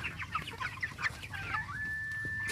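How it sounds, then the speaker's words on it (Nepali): Broiler rooster with chronic respiratory disease, close-up rapid clucks and raspy breathy calls from the flock in quick succession, followed by a thin sustained tonal whine, with no talking. "यो भालेलाई खेर खेर लागेको छ,"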